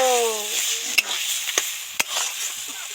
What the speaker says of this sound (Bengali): সামান্য একটু কিচেন কিং গরম মশলা দিয়ে নেড়ে চেড়ে মিশিয়ে দেবো